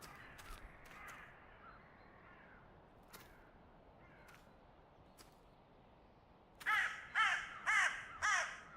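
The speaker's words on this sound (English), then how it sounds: "Oh my god, the crows are so loud." Crows caw in The Cursed Forest video game, with four loud, harsh calls in a quick run near the end after a quieter stretch of faint bird chirps and clicks.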